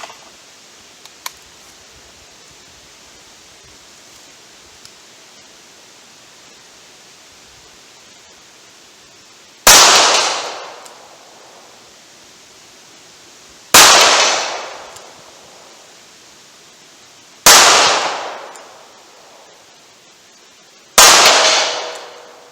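Four loud, sharp gunshots from a revolver at a steel tank target 70 yards away, spaced a few seconds apart after a long quiet stretch, each with a short ringing clang and decaying tail.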